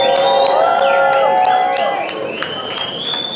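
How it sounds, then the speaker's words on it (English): Audience applause, cheers and whoops break out for an artist at a whisky-tasting conversation evening, loud and close at first with a crowd roar and shrill whistles, then easing slightly while still sustained. "Let's give him a round of applause."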